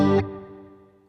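A clean guitar chord played through a Valeton GP200 with a slight modulation effect rings out, its sharp attack cut short and then leaving a shimmering sustain that fades over about a second.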